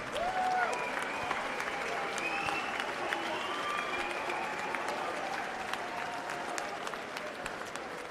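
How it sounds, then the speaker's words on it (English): Applause from the crowd at a Welsh Area lightweight title boxing match for the two fighters called to the centre of the ring; steady, fairly distant clapping, with an announcer's voice heard faintly over it. "May we please have a round of applause for these two fighters"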